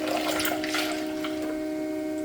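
Water from a cup poured into a cooking pan in a home kitchen, a continuous close splashing and trickling over a steady tonal hum, with no voices.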